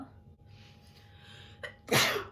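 A single loud sneeze near the end, preceded by a short sharp intake of breath, close to the listener.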